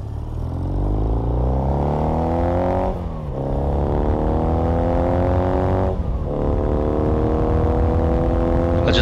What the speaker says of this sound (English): I just love the engine notes on it, and I love the way it accelerates.